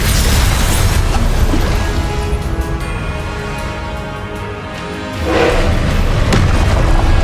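Fiery blast spells boom out in a Hogwarts Legacy wizard duel, a dense, loud roar of bursts and crackling impacts that dips briefly midway, then swells again with a fresh burst near the end.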